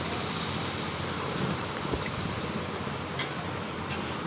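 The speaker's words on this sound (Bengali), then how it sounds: "ঝালের জন্যে উষ্ণ গরম জল দিয়ে দিচ্ছি" Warm water is poured into a pan of spicy rupchanda fish curry, giving a steady, even rushing hiss that fills the whole stretch without pause.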